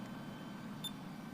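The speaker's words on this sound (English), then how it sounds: "there's a new beeping thing going on here." A single short electronic beep from a tractor in a farming game set on a Canadian map, a brief high tone over steady low engine hum.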